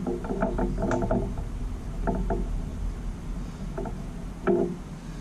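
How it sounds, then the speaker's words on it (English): A wrench works loose a spark plug on a Jeep TJ, giving short bursts of quick ratcheting clicks in a few separate clusters, close and moderately loud against a low background hum. "unscrew the spark plug a little bit"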